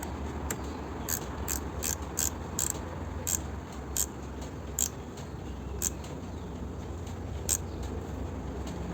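A Tone stubby reversible ratchet tightens a loose bolt. Quick bursts of crisp, close clicking from the pawl repeat at irregular intervals over a low steady background hum.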